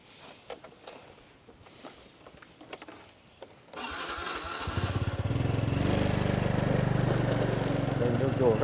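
Quiet outdoor sounds and light clicks give way to a motorcycle engine starting, then revving up to a close, steady running drone as the bike rides off.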